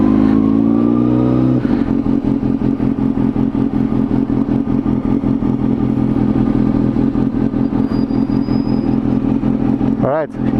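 A motorcycle engine runs steadily up close through a slow turn, its low throttle note and mechanical clatter continuous, with a brief revving sweep near the end.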